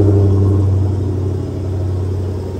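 2016 Dodge Challenger Hellcat, 707 horsepower, on a cold start: a loud, deep rumbling idle close by, steady and heavy with a slight dip as it settles, no voices over it.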